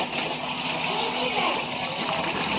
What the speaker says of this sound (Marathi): पाणी आले आणि बॅलर भरलाय आता आपला.